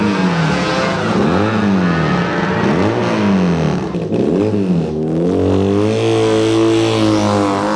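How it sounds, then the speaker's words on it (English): A 4-cylinder racing motorcycle at a road race on a mountain course gives a loud, sustained high-pitched yowl, revs rising and falling through gear changes as it passes close by. "Just listen to that 4-cylinder yowl."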